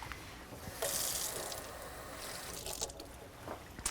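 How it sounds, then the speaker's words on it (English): Water runs from a sink tap in a short, soft rushing stream with a few drips and small clinks, faint and alone. "So I'm going to go get water from the sink."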